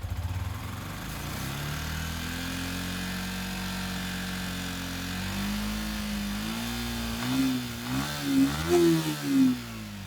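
A Sniper V3 motorcycle engine idles steadily, then is revved in several rising and falling bursts toward the end, the pitch climbing with each blip, close and alone without talk.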